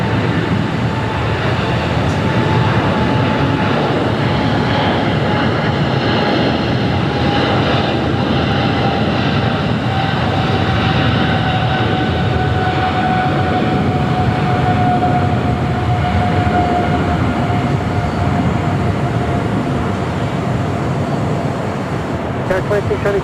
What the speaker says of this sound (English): Philippine Airlines Flight 113 heading to Manila to 777-300ER.